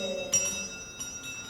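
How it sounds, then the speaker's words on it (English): A small bell rings in a vaudeville stage act, giving a few light, close strikes with a clear metallic tone that lingers as a thin sustained ring between hits. "if you will just look at this little bell"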